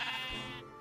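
A single drawn-out sheep bleat from Minecraft with the FTB Ultimate modpack, close and clear with no talking over it.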